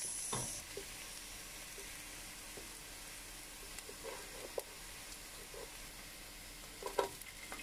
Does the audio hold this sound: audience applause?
no